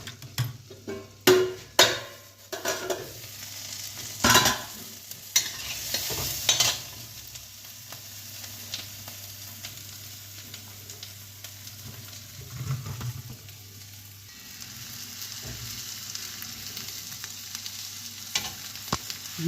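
Capsicum and onion frying for a plain home-style vegetable dish, with a few sharp clinks of stirring near the start, then a steady low sizzle running alone through the rest.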